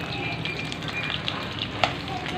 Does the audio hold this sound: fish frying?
yes